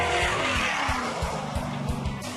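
A race car engine screaming at high revs above 6,000 RPM, loud and near, with a sustained howl over rapid low pulsing and tire squeal.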